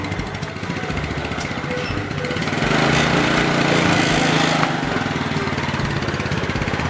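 A motorcycle engine runs steadily with a buzzing, mower-like drone, rising slightly in loudness midway, close and uninterrupted by speech.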